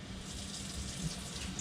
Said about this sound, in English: So the first step, you turn on some water.